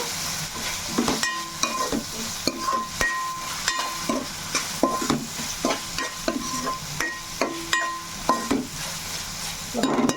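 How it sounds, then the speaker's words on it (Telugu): A spice masala of ginger, garlic, coriander, cinnamon, cloves, fresh coconut and pepper sizzles in a pan while a spoon stirs and scrapes repeatedly against the metal in a steady uneven rhythm, close and fairly quiet, with no talking. "ఈ మసాలా కూడా పచ్చివాసన బాగా పోయేటట్టు వేసుకోవాలండి."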